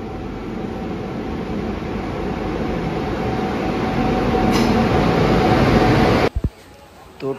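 A passenger train on the Bankura to Purulia line rumbling along the rails, a steady loud roar from inside the carriage that builds, then cuts off abruptly near the end with a few clunks.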